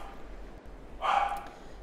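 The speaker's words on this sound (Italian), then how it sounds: "Festeggia anche il cane di mia sorella, che è qua in casa, come avete sentito, credo." A house dog indoors gives a single short bark, faint and somewhat distant, over a low background hum from a tennis video game.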